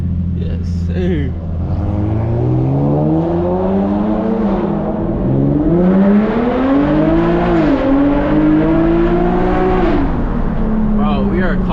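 Infiniti G37 coupe with a full titanium Tomei exhaust revving hard, a loud raspy engine note climbing and falling through several sweeps up close, with voices faintly underneath.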